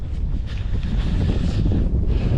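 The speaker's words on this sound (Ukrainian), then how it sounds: "Погодка нельотна, сильний вітер." Strong wind roaring and buffeting the microphone during a rainy spin-fishing outing, a constant heavy rumble with gusty swells and no voices.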